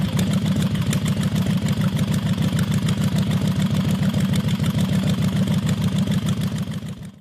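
A large 70-degree V-twin motorcycle engine of 4,888 cc runs close by, a loud, even, rapid pulsing throb that holds steady for several seconds before fading out at the end.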